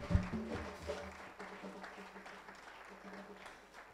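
A church audience at a women's gala evening applauding to acclaim the Lord, with steady, moderately distant clapping and a faint voice speaking over it.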